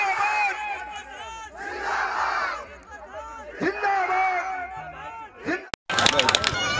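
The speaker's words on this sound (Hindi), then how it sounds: "आज बहुत हजारों की भीड़ थी" Thousands of people at a political rally shout and roar together in a dense, sustained wall of voices, with surging cheers and a sharp burst near the end.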